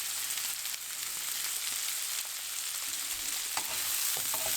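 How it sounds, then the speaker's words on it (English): Brussels sprouts and bacon shallow frying in melted butter over medium heat, a steady bright sizzle and crackle with occasional stirring and pan clinks, close and without speech. "That's why I wanted to shallow fry them."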